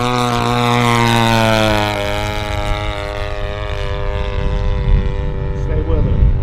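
A yellow P-47 model aircraft's propeller engine drones steadily in flight, a loud harmonic whine that eases slightly after the first two seconds and continues with rising background noise.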